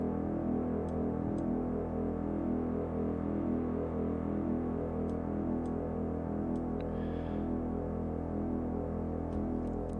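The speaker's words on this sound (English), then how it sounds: "I'll play a really low note on the keyboard." A sustained, very low synthesizer note from Pigments drones steadily with a gritty, buzzing distortion, holding unchanged throughout with faint clicks on top.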